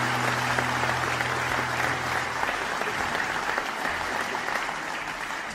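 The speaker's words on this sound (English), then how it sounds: "Let's give them a round of applause again" An audience at a Somme Day concert applauds a concert band with a sustained, dense round of clapping. A low held tone hums beneath it early on, and the applause tapers slightly toward the end.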